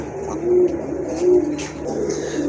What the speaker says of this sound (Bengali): খুবই সুন্দর লাগে এই কাদানে কবুতর গুলো